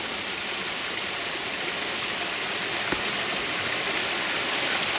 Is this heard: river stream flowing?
yes